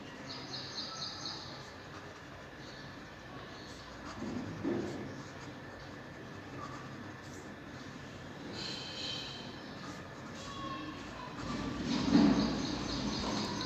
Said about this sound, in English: Let me show you the reverse writing.